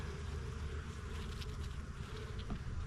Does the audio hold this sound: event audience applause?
no